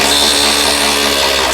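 An impact wrench works loose bolts on a Ford Taurus wagon during a fuel pump job, giving one brief, loud, continuous whirring rattle close by, with no talking.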